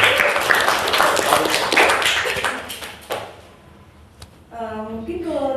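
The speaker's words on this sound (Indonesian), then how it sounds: "Tepuk tangan dulu dong." A small group applauds at a student leadership podcast for a school council candidate, with several seconds of brisk, close clapping that thins out and stops before a voice starts speaking.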